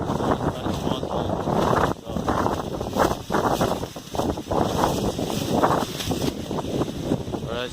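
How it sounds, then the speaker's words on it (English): Strong wind buffets a handheld microphone on a rainy day in Skagway, Alaska, a loud continuous roar with gusting surges throughout, and no voice. "it's very, very, very windy out here"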